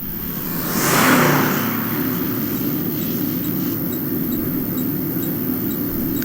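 An engine roars and revs in a Back to the Future video game, surging loudly in the first seconds and then settling into a steady, continuous drone.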